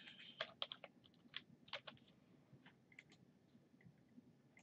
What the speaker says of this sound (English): I could just type the name in here directly